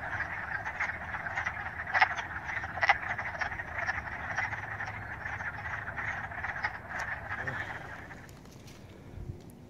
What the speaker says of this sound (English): Those are spring peepers.